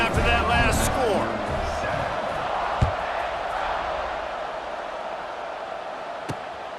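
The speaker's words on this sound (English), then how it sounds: "this crowd is buzzing after that last score" Stadium crowd in the College Football 26 video game, Ole Miss vs LSU, buzzing as a steady roar under the commentator's talk, with a sharp thump near the middle and a lighter knock later.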